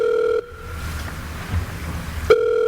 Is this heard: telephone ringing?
yes